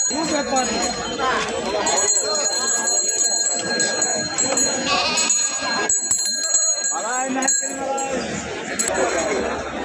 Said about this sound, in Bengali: বিশাল সাইজের একটি ছাগল